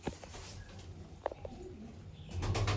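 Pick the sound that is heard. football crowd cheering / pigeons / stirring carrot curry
pigeons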